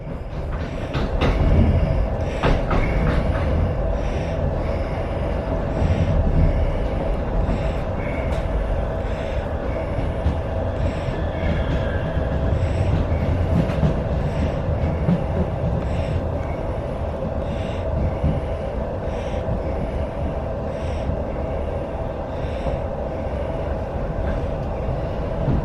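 Inside a moving passenger train, a steady low rumble with clickety-clack rail joints and faint squeals, louder at the start and then holding an even, continuous roll.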